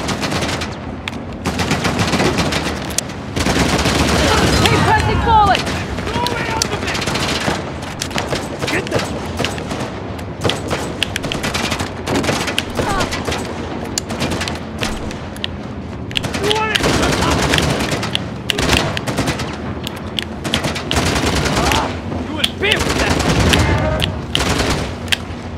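Rapid gunfire from the video game Uncharted: The Lost Legacy rattles almost nonstop, with dense bursts and heavier booms layered throughout and a player talking now and then over the fighting.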